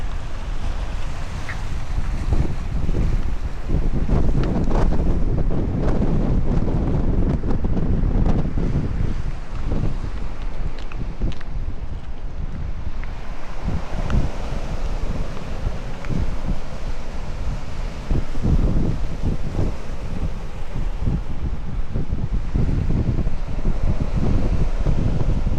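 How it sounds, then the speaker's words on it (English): Strong wind on the North Coast near Bude buffets the microphone in a constant heavy roar with gusty low rumbles for the full duration, loud and close with no voices. "And we're back in the wind again."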